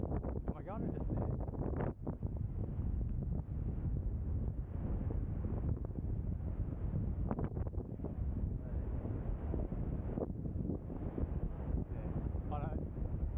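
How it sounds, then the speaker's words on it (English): Strong wind on a coastal beach buffets the microphone in a constant low roar, with a voice partly audible beneath the rumble. "it's probably going to be super windy"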